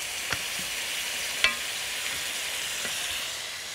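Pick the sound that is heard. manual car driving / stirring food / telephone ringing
stirring food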